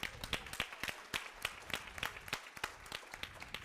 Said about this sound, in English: Clap hands for safety.